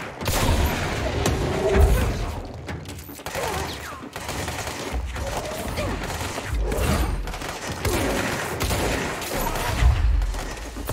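Shotgun blasts in the video game Control, heavy booming shots fired repeatedly in close succession amid crashing debris and chaotic combat noise, loud and dense throughout.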